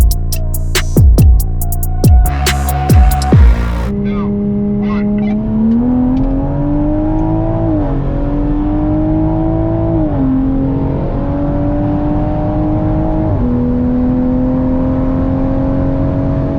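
A tuned Toyota Supra racing other cars: sharp engine revs and gear changes open the run, then a loud, steady high-speed drone climbs in pitch through several upshifts, close and continuous with no talk.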